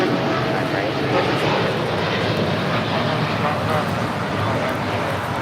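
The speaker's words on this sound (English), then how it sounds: "This is Japan Airlines Flight 61 taking off to Tokyo Narita on a 787-8 Dreamliner" A Japan Airlines Boeing 787-8 Dreamliner takes off from runway 25 right at LAX, a loud steady broadband engine roar holding throughout at close range.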